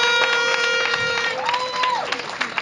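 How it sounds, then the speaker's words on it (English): An audience at a girls' high school speech day with a cadet display claps steadily throughout, a broad even patter that stays fairly loud, with a sustained tone running beneath it. "I think we can all give them a very resounding round of applause."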